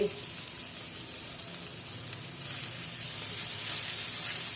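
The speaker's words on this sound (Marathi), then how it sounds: "बटर टाकल्यानंतर लसूण तुकडे टाकूया अद्रकचे तुकडे हिरवी मिरचीचे बारीक केलेले तुकडे" Garlic, ginger and finely chopped green chilli frying in butter for sweet corn soup, a steady close sizzle and hiss that swells louder halfway through, with a voice speaking over it.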